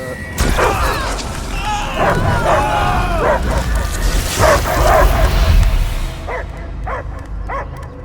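Repeated dog barks and yips from Marvel's Guardians of the Galaxy video game soundtrack, loud and layered over booming effects and music, with a few sharp barks standing alone near the end.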